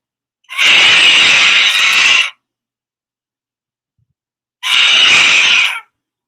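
Recorded pterodactyl screeching: two loud, shrill, raspy screeches, the first about two seconds long and the second shorter after a silent gap, close and clear with no talk.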